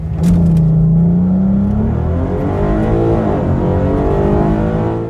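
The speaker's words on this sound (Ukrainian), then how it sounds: "Launch Control дозволяє двигуну розкрутитися до оптимальних обертів перед стартом" A car engine revs up using launch control before a start, with a rising drone that holds at high revs, loud and close, with a mechanical whir and no talking.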